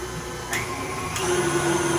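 A planetary stand mixer beats dough at higher speed, a steady close mechanical whirr with a constant motor tone and faint rhythmic clatter, running alone without talk.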